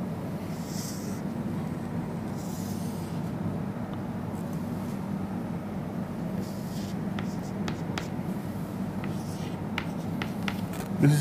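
Pen or chalk drawing a high wing aircraft diagram by hand, soft scratchy strokes over a constant low room hum, the strokes gathering into quick short marks near the end.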